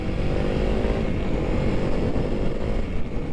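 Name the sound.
motorcycle engine riding in city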